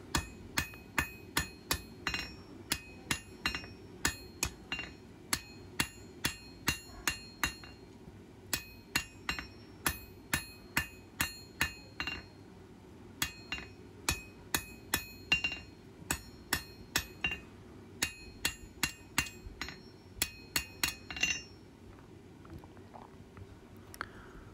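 A blacksmith strikes hot metal on an anvil while forging, a long run of sharp, ringing hammer blows in a steady, fairly quick rhythm, close and clear, with short pauses between bursts and no talk.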